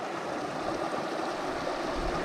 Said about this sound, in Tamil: இது வந்து வரப்புக்கு போகிற தண்ணியும் அவங்க வந்து ஸ்ட்ரீம் மாதிரி ரெடி பண்ணி தண்ணி விட்டுருக்காங்க